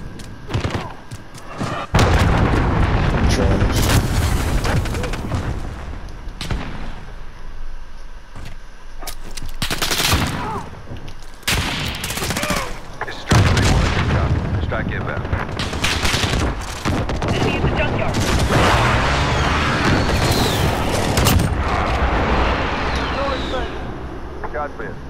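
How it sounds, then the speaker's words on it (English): Heavy gunfire and booming explosions from a cruise missile strike in Call of Duty: Modern Warfare come in loud bursts and volleys with brief lulls, while voices talk over the battle. "Enemy cruise missile incoming!"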